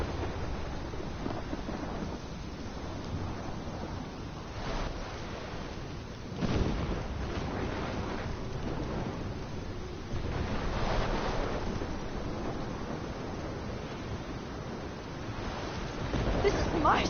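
In the video game Life Is Strange, a storm rumbles with continuous wind and rolling thunder, building in bursts of louder surges over a steady roar of gusts.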